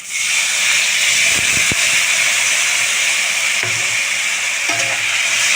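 Water hits hot fish curry masala for a katla fish and potato curry, bursting into a loud, continuous hiss of sizzling steam with a few faint clinks of a utensil.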